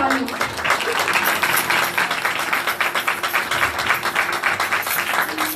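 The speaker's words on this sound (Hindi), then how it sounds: "आइए रूहुल कुद्स के लिए जोरदार ताली" Sustained applause from a church congregation during a Hindi-language Christmas service, dense steady clapping filling the room for several seconds with a faint held tone underneath.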